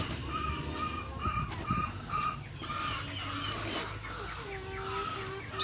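Chickens cluck and squawk close by in a steady stream of calls, with other background sounds underneath.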